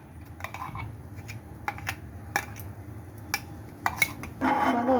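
A small tempering ladle is set into a pan on a stove with a few sharp metallic clicks and clinks, followed by a brief rising hiss.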